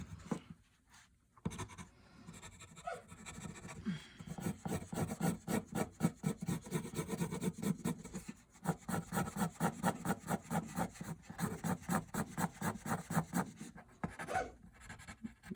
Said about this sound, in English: I'm cleaning up with my eraser, I'm pulling some up. I'm just really darkening the edge of that.